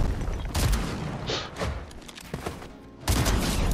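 Bursts of rapid gunfire in a Fortnite match, several sharp volleys in quick succession with a brief lull midway before another loud burst near the end.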